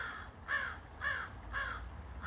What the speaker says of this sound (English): These crows are talking.